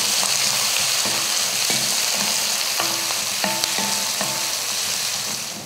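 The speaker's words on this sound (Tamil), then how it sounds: "கருவேப்பிலை, பச்சை மிளகாய், ஒரே ஒரு பெரிய வெங்காயம். இப்போ இதை வதக்கிடலாம்." Onion, curry leaves, green chillies, garlic and chana dal sauté in a hot pan, giving a steady close sizzle overlaid with repeated clinks and scrapes of a spoon stirring, without any talking.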